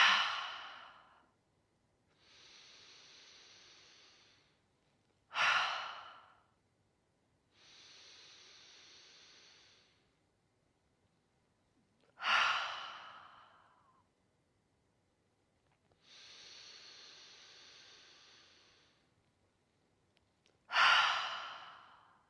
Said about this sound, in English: we're going to inhale fully, and the exhale we're going to out of the mouth